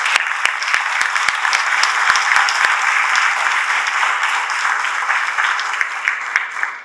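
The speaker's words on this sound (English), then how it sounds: "we must clap for her in a big way." Audience clapping at a Bharatiya Basha Utsav celebration event, a dense, even roll of many hands with occasional sharper claps, steady and loud before tapering off at the end.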